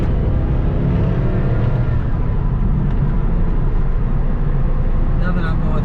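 A 1996 LT4 C4 Corvette on the freeway with brand-new but old-stock tires, its engine and road roar a loud continuous rumble heard from inside the car, with a voice talking over it.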